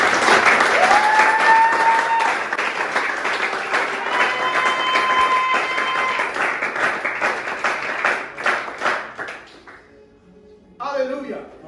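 An audience at a church service applauds, with loud sustained clapping that has a cheer or whistle in it and tapers off near the end. Someone talks briefly over the fading claps.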